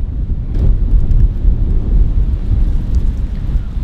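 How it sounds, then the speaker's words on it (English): Strong, steady wind roaring through forest trees, a dense low rumble with gusty surges throughout. "It is incredibly windy, everyone."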